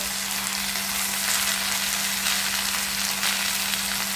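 Mint, coriander and fenugreek leaves fry in hot oil for a home-style mutton biryani, giving a steady, loud, close hiss that holds evenly throughout with no talking.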